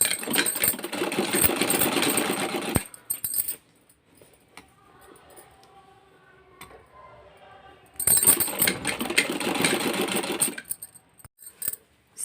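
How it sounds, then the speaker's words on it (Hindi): Sewing machine stitching fabric cut from a kurti, two steady loud runs of rapid mechanical clatter separated by a quieter pause with light handling sounds. "यहाँ से यहाँ तक हम सिलाई लगा लेंगे"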